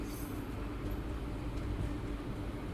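Continuous low rumble of a train rolling slowly into Madurai Junction station in South India, a steady near drone of wheels and carriages with no speech.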